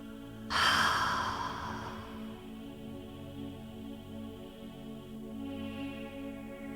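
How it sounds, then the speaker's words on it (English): One slow deep breath comes close up during a quiet meditation, a soft audible exhale that fades, then a faint second breath a few seconds later over a low steady room hum. "Take a deep breath as if God is breathing you."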